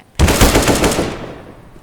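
Rapid automatic gunfire in Counter-Strike: Global Offensive, a loud close burst of dense shots that starts abruptly and then trails off into a fading echo, with no talking.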